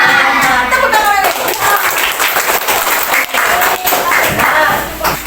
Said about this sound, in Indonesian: Nah, tepuk tangan lagi.